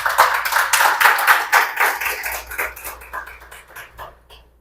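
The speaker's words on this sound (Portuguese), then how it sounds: "eu peço uma salva de palmas" An audience claps at a formal installation ceremony for a cultural institute's new board, the applause strong at first and then thinning into scattered, fading claps toward the end.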